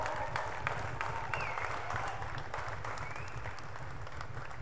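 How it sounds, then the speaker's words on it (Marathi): Sustained applause for a team captain at a Dahi Handi premier league prize event, a dense, even wash of clapping from a crowd that continues without pause. "ओ क्या बात आहे, कॅप्टन साठी जोरदार टाळ्या."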